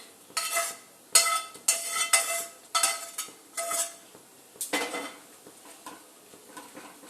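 A spoon scrapes and clinks against a pot while dal with fried jute leaves is stirred, a run of bright, brisk metallic strokes in bursts, then softer, slower stirring toward the end, with no talking.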